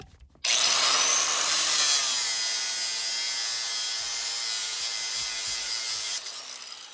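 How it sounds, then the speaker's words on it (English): A grinder bites into small nubbins on a house build, starting abruptly and holding a loud, sustained high-pitched whine with a slowly drifting pitch for about six seconds before cutting off, close and alone. "there's only about 20 or 30 of these little nubbins we have to grind off"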